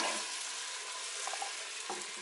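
Onions sautéing in a Power Pressure Cooker XL, a steady, faint broadband sizzle with a few soft stirring clinks, no voices.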